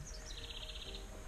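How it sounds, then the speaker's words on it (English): Faint, high bird chirps repeat quickly over a low, steady outdoor hum, with no voices. "Lots of birds chirping."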